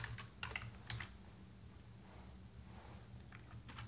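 Computer keyboard tapped to enter CSS code, a few scattered soft keystrokes in small clusters, faint and close against a low room hum.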